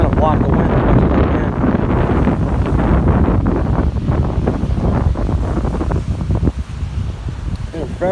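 Strong gusty wind on Biloxi Beach in Mississippi, buffeting the microphone with loud continuous rumbling and surf noise beneath, while a voice talks intermittently over it.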